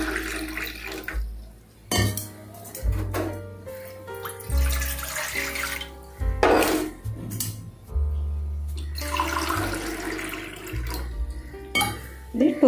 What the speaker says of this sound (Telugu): అదే గ్లాస్ తోటి 2 గ్లాసు వాటర్ పోసుకోండి.